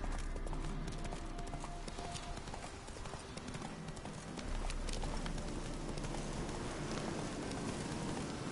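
Hooves clip-clop steadily as a horse gallops in The Witcher video game, a continuous rhythmic beat over ambient game sound, with no voices.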